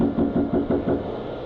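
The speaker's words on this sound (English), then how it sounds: "Then he knocks again." Knocking on a front door, about six evenly spaced dull raps in quick succession, close and fairly loud, then stopping, with a low steady background hum underneath.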